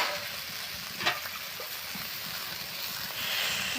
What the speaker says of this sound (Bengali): এবারে আমি একটু নেড়ে চেড়ে একটু জল দিয়ে দেবো